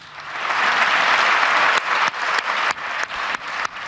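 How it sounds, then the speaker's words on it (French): Members of parliament applaud a prime minister's speech on the start of the war in Ukraine: broad clapping swells over the first half-second, holds strong, then continues in bursts broken by several abrupt cuts. "sous les applaudissements des principaux députés"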